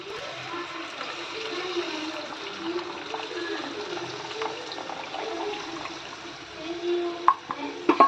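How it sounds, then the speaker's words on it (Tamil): Tamarind water pours into a pot of simmering vatha kuzhambu curry, a soft steady splashing and bubbling with faint clinks of a utensil near the end. "பாருங்க, புளி தண்ணி சேர்த்துக்கலாம்."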